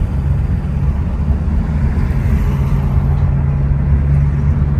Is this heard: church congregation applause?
no